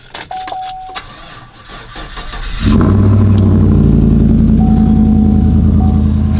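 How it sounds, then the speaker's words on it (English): A truck's engine turns over after a few rough cranking attempts, then catches and runs with a loud, steady low rumble that continues to the end. "truck didn't start"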